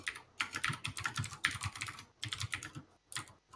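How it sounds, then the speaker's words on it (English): Rapid, steady clicking of keys on a computer keyboard, close and fairly quiet, with short pauses between runs of typing. "I'll let you finish typing."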